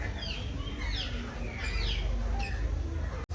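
Many parrots, grey ones among them, call at Baroda zoo in Sayaji Baug: a run of sharp, repeated squawks and chirps over steady outdoor crowd murmur and background rumble.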